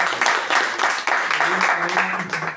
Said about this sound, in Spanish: Julio Dávalos, por favor, aplauso.